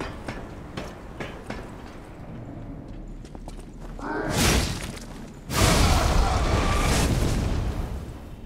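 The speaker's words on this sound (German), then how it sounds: "Erst dachte ich, dass die viel krasser explodieren, so wie die sich anhören zumindest" Enemies blowing up in the game Lies of P: two loud, broad bursts, one swelling then a bigger blast that lingers and fades, over a busy background of clattering game sounds.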